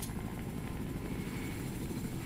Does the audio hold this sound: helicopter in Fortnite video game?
yes